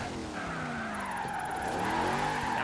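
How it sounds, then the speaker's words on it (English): A Hoonigan Napalm Nova drifts in Forza Horizon 3, with a close, steady tire squeal and skid that sweeps in pitch over a continuous engine drone for the whole stretch. "This Nova is insane drifting."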